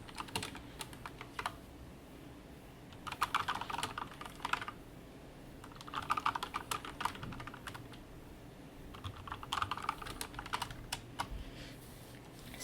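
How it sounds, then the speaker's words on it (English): Fingers type on a Corsair K70 Lux RGB mechanical keyboard with ceramic brown switches, giving close, crisp clacking in several bursts of rapid keystrokes, with quieter pauses between them and no talking. "Lux RGB mechanical keyboard, and it has ceramic switches, and this particular one has ceramic brown switches."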